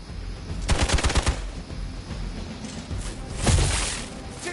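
Gunfire in Marvel's Midnight Suns: two loud bursts of rapid shots, the first a quick rattling volley, the second a heavier blast a few seconds later, with quieter game ambience between.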